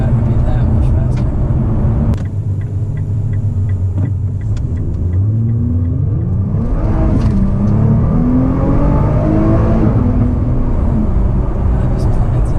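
A 2020 Nissan GT-R NISMO with all-wheel drive launches hard, its engine rumbling loud from inside the cabin and rising in pitch as it accelerates, with people talking over it.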